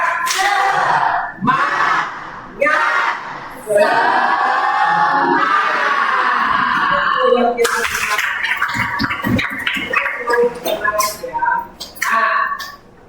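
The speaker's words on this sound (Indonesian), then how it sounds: "Tepuk semangat." A class in a workplace-safety lesson does a rhythmic spirit clap, voices chanting loudly together in short phrases before a run of sharp, patterned claps and shouts near the end.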